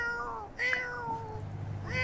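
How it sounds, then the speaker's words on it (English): A cat meows in the video game Sims 4, two or three clear, drawn-out meows close by, with a short gap between them and no voices. "We has a kitty friend."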